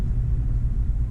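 Deep, continuous engine rumble of a truck pulling out nearby on a crisp Montana morning, loud and steady throughout with no voices.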